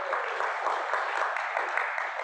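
Congregation applause at a church sermon, a steady dense wash of many hands clapping together without a break, filling the space at moderate loudness.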